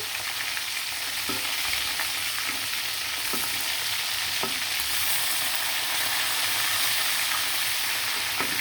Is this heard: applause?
no